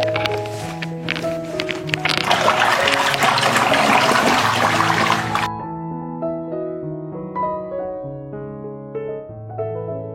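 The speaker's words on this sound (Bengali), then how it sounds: "এখন আমি এখানে 2 চামচ পরিমাণ ফিটকারি দিয়ে প্রথমে ধুয়ে নিচ্ছি" Fabric is swished and rinsed in a basin of alum water for eco printing with marigold flowers. Sloshing, trickling water runs for about five seconds over background music, then only the music continues.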